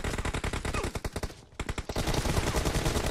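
Rapid automatic gunfire from a PUBG Mobile match, dense bursts of shots close and loud, with a short pause in the middle before the firing resumes.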